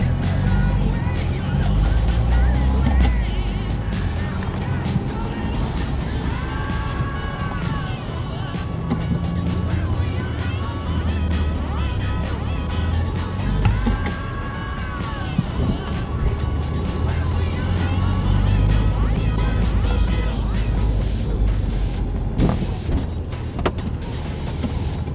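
A Renault Mégane 2 RS with the 2.0 engine laps a race circuit at La Ferté-Gaucher, its loud engine droning steadily and rising through the revs as the car passes near, with faint talk underneath.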